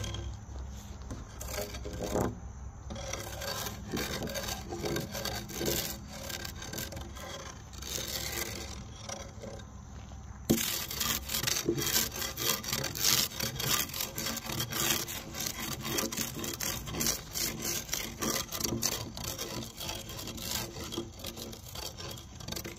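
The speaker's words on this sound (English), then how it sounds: "I'll just scrape it and hit it with my floor broom" A wooden post is scraped and then brushed with a floor broom, giving repeated rough rasping strokes up close, steady and rhythmic throughout.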